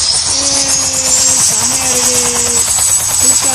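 A Roblox Barry's prison escape game helicopter gives a steady, loud buzzing rotor drone with a faint droning tone, continuous throughout.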